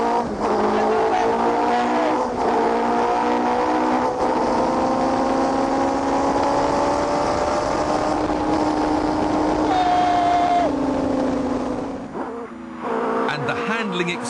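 A Tiger Z100 kit car runs at full throttle, its engine holding a loud, rising howl with clear harmonic bands and gear shifts, then dropping off sharply near the end as the car lifts off.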